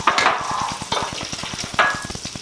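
Bacon sizzling and popping steadily in a hot pan, with rhythmic scraping stirs and occasional louder crackles, close up and with no talking.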